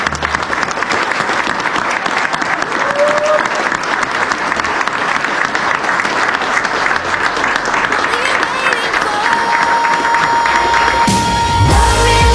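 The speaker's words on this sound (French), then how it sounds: "Vous pouvez applaudir." Wedding guests applaud the newly married couple at their ceremony, a dense, steady wash of many hands clapping throughout with scattered cheering, and a thin sustained tone entering near the end.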